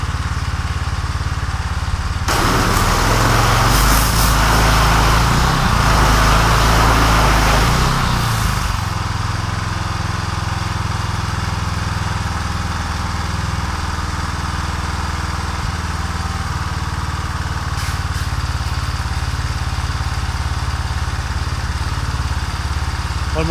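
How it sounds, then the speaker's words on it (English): A Craftsman power washer's small engine runs close by with a steady droning rumble, louder and rougher for several seconds early on before settling into an even, continuous hum. "When my power washer gets air in it, it won't work. It's one of them Craftsman"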